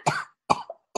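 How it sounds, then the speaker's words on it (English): A woman coughs three times in quick succession, close and fairly loud, each cough a short harsh burst with brief silence between, the last one clipped and shorter. "is now coughing, presumably choking to death"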